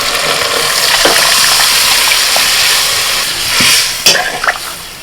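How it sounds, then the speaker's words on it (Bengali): Mung dal is poured into sautéed spice masala in a pan, a loud hiss and sizzle with splashing and stirring that ends in a few sharp clatters. "মশলাটা কষে নিয়ে এবার ডালটা ঢেলে দিচ্ছি"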